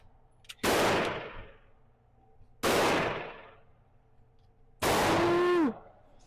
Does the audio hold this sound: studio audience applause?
no